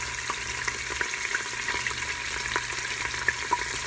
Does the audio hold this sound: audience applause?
no